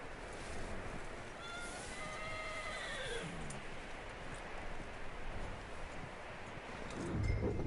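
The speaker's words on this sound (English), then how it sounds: "That looks like a decent horse." A horse in the Red Dead Redemption 2 video game gives a loud, drawn-out whinny, followed by soft hoof clip-clops and rustling over a steady outdoor ambience, with a sharper burst near the end.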